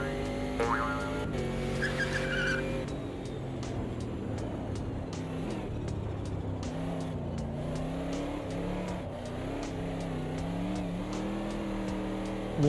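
Race car engine in the Automobilista 2 sim racing game, steady droning revs with shifting pitch as the tyres are warmed, continuous and fairly loud with no talk over it.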